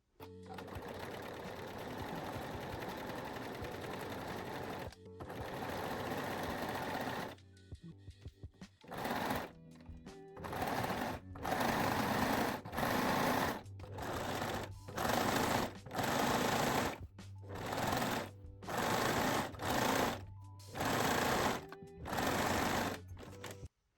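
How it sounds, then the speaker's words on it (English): A sewing machine zigzag-stitches the leg openings of high-waist panties, running in steady bursts of close, loud motor whirring separated by brief pauses, with no talking. "Then turn your panties to the right side and sew both leg openings using zigzag, 3-step zigzag or your cover stitch machine."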